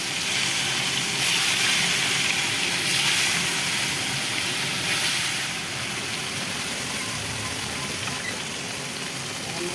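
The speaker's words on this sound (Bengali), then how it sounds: "এবার আস্তে আস্তে করে মাছগুলো ছাড়বো তেল গরম হয়ে গেছে" Fish sizzle steadily in hot oil in a home kitchen, a dense, continuous crackling hiss that stays loud throughout with no talking.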